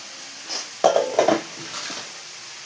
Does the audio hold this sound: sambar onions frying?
yes